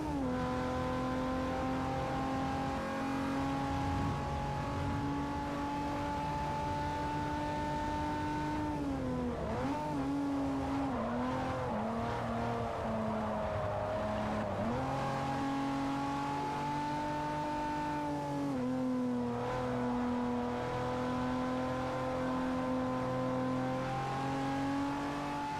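A race car in Forza Motorsport 4 revs hard through the gears, its engine whine climbing and dropping with shifts and cornering, loud and continuous with no talk.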